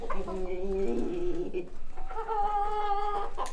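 Young chickens cluck and murmur close by in two short bursts of throaty calls, with no talking.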